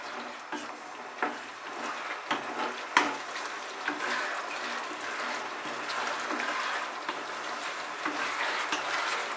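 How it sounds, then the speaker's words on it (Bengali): Cabbage Manchurian balls sizzle as they are stirred into a thick gravy in a pan over high heat, a steady close hiss broken by occasional spoon clinks and scrapes against the pan. "গ্রেভির সাথে মাঞ্চুরিয়ান বলগুলো আমি মিশিয়ে দিচ্ছি"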